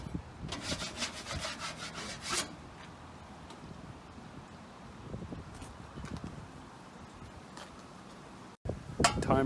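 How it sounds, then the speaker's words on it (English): A drywall knife scrapes dried all-purpose joint compound off a patched wall in a rapid run of close, rough rasping strokes, then quieter scattered scrapes and a short pause before scraping resumes. "Okay, so I'm going to go ahead and scrape it."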